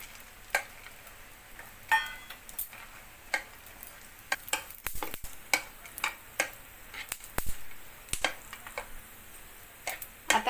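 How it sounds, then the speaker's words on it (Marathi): Dry fruits roasting in a little ghee in a pan, heard as a faint low crackle under repeated sharp ticks and clacks from a spatula stirring and tapping the pan, with no talking. "आता आपण हे ड्रायफ्रूट्स भाजून घेणार आहोत।"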